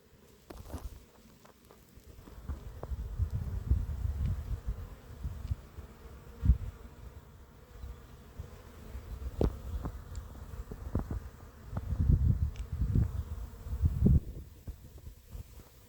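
Honeybees hum in a low, swelling buzz near a hive fitted with pollen traps during a nectar flow, rising and falling over several seconds with occasional soft knocks and rustles.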